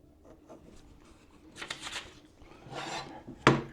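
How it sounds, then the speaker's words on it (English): A metal heavy-duty 1.3mm mechanical pencil scratches across paper in short strokes, with rubbing, scraping bursts that grow louder toward the end and a sharp tap near the finish, close and without talk. "The pencil is very easy to operate, easy to take notes,"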